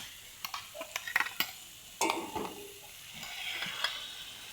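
Roasted coconut paste goes into a pan of bitter gourd for theeyal and is stirred, with quiet spoon scrapes and clinks against the pan over a faint, low sizzle.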